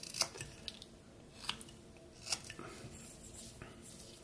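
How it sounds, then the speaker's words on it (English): A knife cuts a stop cut into wood while whittling a carved nose, giving a few faint, close, crisp cutting snicks separated by quiet pauses. "We're going to put our stop cut in, cut down and up to it."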